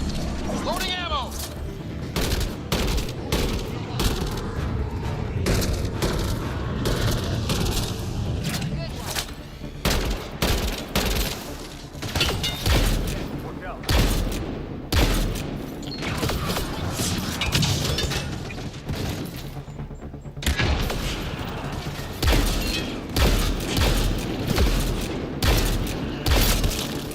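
Sustained combat gunfire in the sci-fi shooter Mass Effect Andromeda: dense, rapid bursts and impacts with mechanical clatter run almost unbroken, loud and close, with occasional short lulls.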